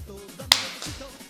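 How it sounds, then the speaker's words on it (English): A single sharp hand clap during a kids' Spanish dance lesson, crisp and close, standing out alone against quiet background murmur. "we're going to clap"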